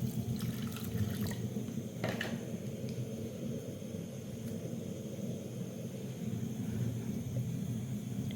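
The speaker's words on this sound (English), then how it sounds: "add water" Tap water runs into a cooking pot in a steady, rushing stream with a low rumble underneath, continuous and close for several seconds without any voices.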